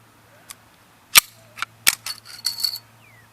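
Walther PP pistol in .32 ACP being broken down by pulling its takedown lever, giving a few sharp, close metallic clicks and clacks in a quiet room with no talking.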